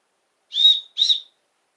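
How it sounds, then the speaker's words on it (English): Two short, shrill blasts from a survival whistle in quick succession, clear and close, with silence around them. "This is a survival whistle."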